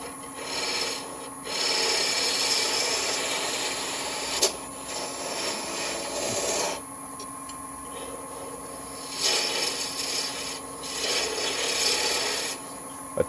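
A woodturning tool cuts a wooden honey dipper spinning on a lathe, making a steady, close scraping and rasping over the machine's constant hum, with short pauses between passes and no talking.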